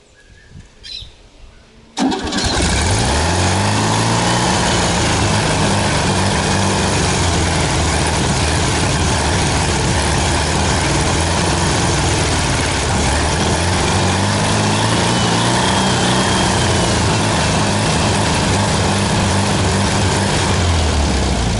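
A 1975 Volkswagen Beetle, its engine long unused, cranks and fires after two seconds, then settles into a loud, steady, throbbing air-cooled idle close to the listener for the rest of the clip.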